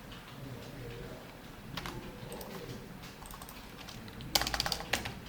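Typing on a computer keyboard during a database lesson on self and outer joins, soft steady key clicks throughout with a louder burst of rapid taps near the end, close and moderately quiet.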